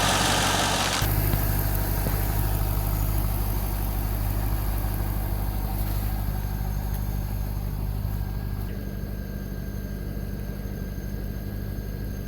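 A 1998 Corvette C5 V8 engine, on its first start after a harmonic balancer replacement, idles steadily after a brief louder rev at the start, its low rumble holding a constant, even pulse throughout.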